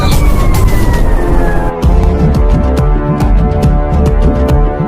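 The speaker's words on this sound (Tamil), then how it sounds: "ஃபயர் இன்ஜின் வண்டி" A fire engine siren wailing loudly and nearby on a road trip near Sathiyar dam, Madurai, a sweeping falling tone over heavy traffic rumble and engine noise, with horn-like tonal bursts later on.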